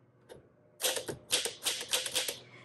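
Typing on a 1953 Smith Corona Super manual typewriter: a single faint tap, a short pause, then a quick run of crisp, close key strikes with sharp clacks, heard alone.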